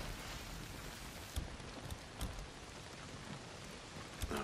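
Heavy downpour in the video game Days Gone, a dense steady hiss of rain drumming on surfaces with a few sharper drops and splashes standing out, no speech.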